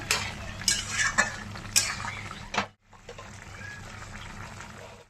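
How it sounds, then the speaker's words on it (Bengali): A spoon stirs soybean curry in a pan, scraping and clinking in quick bursts over a low frying hiss, then going briefly silent before a steadier hiss resumes. "এখন ভালো করে নাড়িয়ে চাড়িয়ে নেব"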